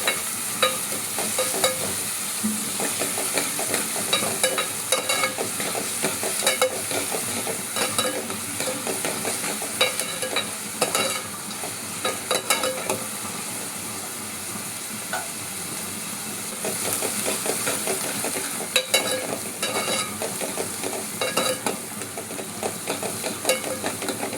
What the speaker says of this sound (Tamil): சேர்த்து இந்த எண்ணெயிலேயே நல்லா பொன்னிறமாக வதக்கிக்கணும்.